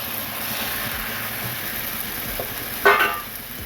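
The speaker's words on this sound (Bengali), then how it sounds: "মাংসগুলো এর ভিতর দিয়ে দিচ্ছি" Mutton pieces dropped into hot oil and fried masala for a Bengali mutton jhol, giving a steady low sizzle that swells into a brief louder crackling burst near the end, with no talking.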